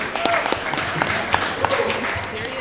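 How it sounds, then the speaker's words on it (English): A live audience at a softball event claps for a coach, with brief steady applause of moderate loudness mixed with a murmuring crowd. "Can we clap for Coach Bob?"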